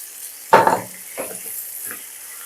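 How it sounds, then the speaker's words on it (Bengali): Chopped onion stalks and eggplant hit a pan of potatoes and onions already frying, giving a loud sizzling burst, then two fainter stirring scrapes and sizzles. "এরপর এতে কুচিয়ে রাখা পেঁয়াজ কলিগুলো আর বেগুন দিয়ে দিলাম।"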